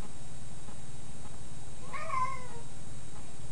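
A cat gives a single drawn-out meow, bending slightly in pitch, partway through. It sounds moderately distant over a constant low background noise.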